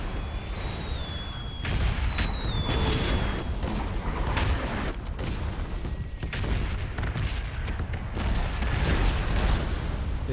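Loud, continuous rumbling booms and blasts from bombs in PUBG overlap densely, with brief whistling tones cutting through the roar.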